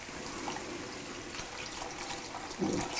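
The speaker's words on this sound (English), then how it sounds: "now we can add our water and our spaghetti" Water is poured into a pot for taco spaghetti, a soft steady splashing and trickling stream in a kitchen that swells briefly louder near the end, fairly faint and without speech.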